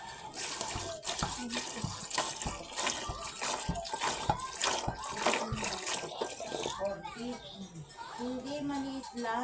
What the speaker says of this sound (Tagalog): Ngayon, lalagyan ko siya ng tubig.